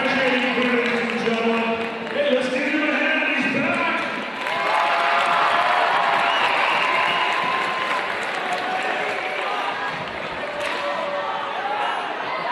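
Crowd applause fills a high school gym during a boys basketball game, a broad sustained wash of clapping and crowd noise lasting throughout, with a voice talking over it early on.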